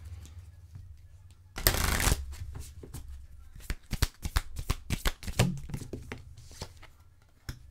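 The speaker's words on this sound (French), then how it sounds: "Je vais aller chercher une carte conseil maintenant." Oracle cards shuffled and drawn by hand during a tarot-style reading: a loud riffling burst near the start, then a run of crisp separate card snaps and taps, close and with no talking.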